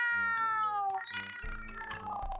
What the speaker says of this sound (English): Those are indeed cat noises.